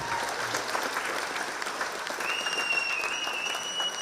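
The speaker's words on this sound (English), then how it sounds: "They deserve an applause." A convocation audience applauds a graduating class, steady crowd clapping heard from a distance and holding at an even level throughout, with no talk over it.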